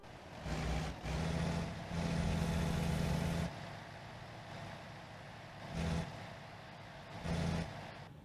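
Engine drone of a truck in the video game American Truck Simulator, a steady low rumble that swells and eases in several bursts, loud at first and then settling into a quieter hum, with no talking.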